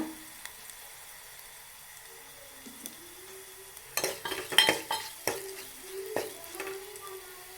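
Asafoetida powder goes into hot oil for a Tamil-style tomato pickle with garlic, bringing a soft sizzle followed by louder stirring scrapes and bursts of crackle in the second half, close and without talk.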